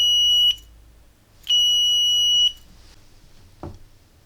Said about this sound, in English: I'm gonna turn on this side the beeper sound on